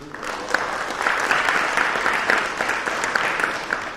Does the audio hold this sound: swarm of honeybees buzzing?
no